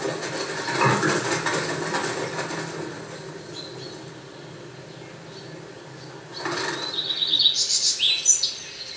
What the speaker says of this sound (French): Les oiseaux s'égosillent pour marquer leur territoire et se faire entendre des femelles des alentours.